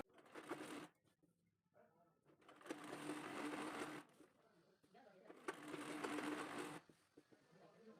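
A sewing machine stitches a nayra-cut kurti, its motor whirring in three steady runs separated by short pauses, close and fairly quiet.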